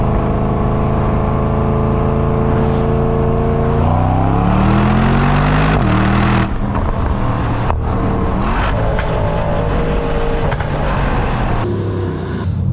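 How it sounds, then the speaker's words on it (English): A 2024 Mercedes-AMG S63 E-Performance V8 revs under a bridge, loud and close, its deep engine tone climbing and dropping with throttle and echoing off the structure, with no voices. "listen to the S63 E-Performance under this bridge. Oh, that's some proper AMG V8 noises."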